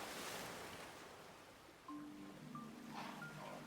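Soft surf washes gently onto a sandy shore in a continuous hush, faint and gentle, with a few thin tonal notes appearing briefly near the end.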